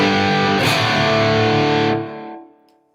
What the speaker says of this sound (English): So that delay and reverb is coming from the aux